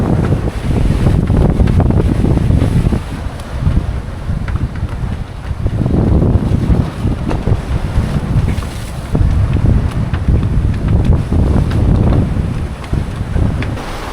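Strong Meltemi wind buffets a reefed sailboat crossing the Aegean, loud continuous gusty roar and microphone rumble with rushing water and waves against the hull, swelling and easing in surges, no talking.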